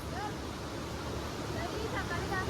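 A river swollen by heavy rain rushes past in a continuous broadband roar, with brief faint voices above the flow.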